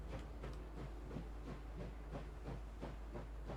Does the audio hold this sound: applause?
no